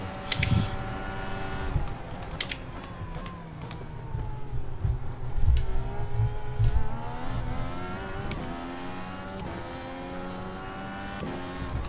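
Simulated IndyCar engine accelerating around Monza in the iRacing game, a steady, loud racing drone whose pitch climbs and sweeps through gear changes, with no talk over it.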